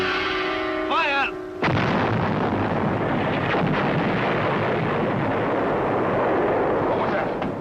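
Artillery fire from a small field gun during mock military maneuvers: one sudden heavy boom lands after a brief strained shout, then a long loud rumbling roar with wind-like noise sustains and rolls on without fading.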